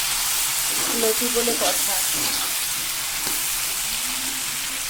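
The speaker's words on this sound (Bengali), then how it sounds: "তেল আমার গরম হয়ে গেছে। কালো জিরে এবার আমি দিয়ে ছেড়ে দিলাম।" Black cumin seeds and lotir sizzling in hot oil in a pan, with a steady crackling fry under a person talking.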